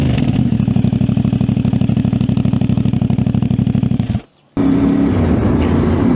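A CFMoto 450MT motorcycle engine on dirt, revving loud and close with a steady pulsing drone for about four seconds, cutting out briefly, then roaring back at a lower, rougher pitch.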